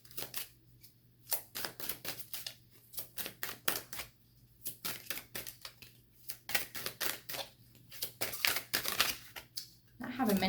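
Tarot cards are shuffled and handled in a run of quick, crisp riffling and slapping bursts, close and fairly loud, with short pauses between bursts.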